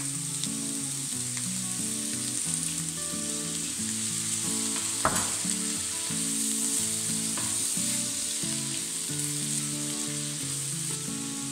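Vegan spring roll filling stir-fries with soy sauce in a hot pan, giving a constant close sizzle with a few sharp utensil knocks and scrapes, while faint music plays underneath.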